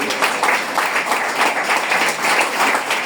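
A church congregation at an evangelical Spanish-language service applauds together, the claps swelling in a loose pulsing rhythm that stays loud and continuous throughout, with no voice over it.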